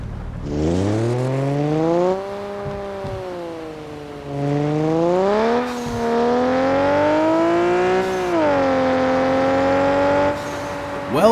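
Stock Chaser rear-wheel-drive car engine in the mobile game CPM2, revving repeatedly in loud rising and falling sweeps, held high between short dips, with no talk.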